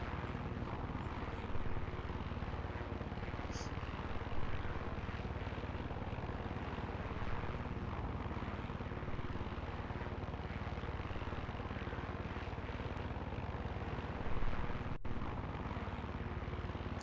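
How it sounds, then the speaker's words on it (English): A helicopter flies in the video game Far Cry 6, producing a steady, dense rotor-and-engine roar that holds constant for the whole stretch, with no speech over it. "Look how quickly you move in a chopper."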